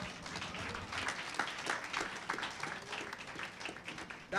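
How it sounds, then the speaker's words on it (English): Church congregation clapping hands during a worship service, a dense steady wash of many hands close by, faint and continuous with no voices standing out. "Clap your hands and tell him thank you."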